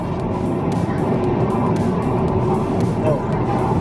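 Tesla Model 3 Performance driving on a road, heard from inside as a steady, loud broadband rumble of tyre and road noise that holds constant throughout.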